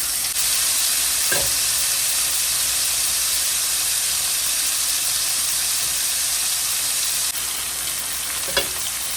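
Salmon fish pieces fry in a pan, making a constant loud sizzle and hiss that runs unbroken. A couple of brief scrapes come in, one near the start and one near the end, and no voices are heard.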